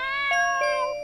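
A couple of short cat meows from the video game Chloe's Requiem, close and fairly soft, heard over sustained musical tones.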